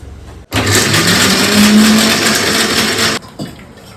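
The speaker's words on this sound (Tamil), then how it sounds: "இன்வெர்டர் தான் இப்போ அரைக்க போகிறேன்" A kitchen mixer grinder, running on inverter power, grinds loudly for about three seconds with a steady motor whine, starting and stopping abruptly.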